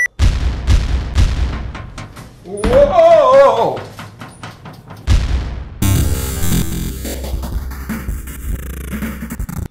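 A loud, booming video game explosion blowing up the Earth bursts in after a short exclamation, followed by a long rumbling, crackling roar and sweeping noise, with voices reacting over it.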